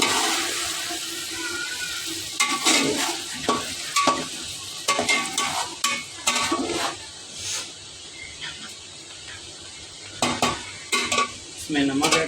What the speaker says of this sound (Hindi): जैसे चिकन थोड़ा ब्राउन होने देंगे हम।